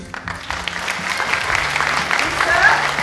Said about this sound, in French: je souhaiterais quand même que vous les applaudissiez très fort